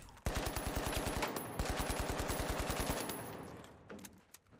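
AKM assault rifle firing in The Finals: two long full-auto bursts of rapid, evenly spaced shots, loud and close, with a brief gap between them and a fading tail of echo, no talking.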